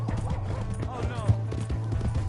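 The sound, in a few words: horse galloping in video game Red Dead Redemption 2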